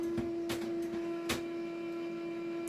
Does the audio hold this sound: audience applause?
no